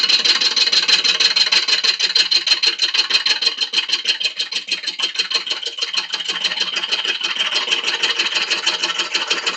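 A wood lathe spins at around 380 rpm with a loud, steady mechanical hum and a fast rhythmic pulsing throughout, uninterrupted by voices.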